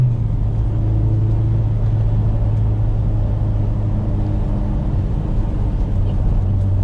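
An Acura RSX on Toyo TR1 tires with its engine droning loud and steady inside the cabin, a continuous low rumble that holds through the whole stretch without a clear climb.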